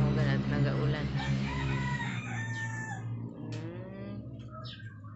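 Several roosters crow in a farmyard, long rising-and-falling calls layered over steady background noise, with faint bird sounds around them.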